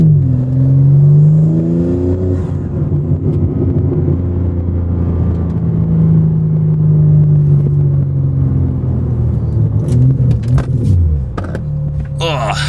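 A car with a BMW S58 engine accelerates hard, a loud, close, deep rumbling roar that climbs and falls through gear changes for several seconds, ending in a few sharp clicks and knocks.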